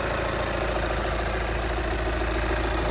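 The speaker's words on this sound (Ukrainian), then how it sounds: "Двигун працює чітко." A 2013 Volkswagen Jetta engine idles with a steady, even mid-low hum and faint vibration, running smoothly and continuously at close range with no talk.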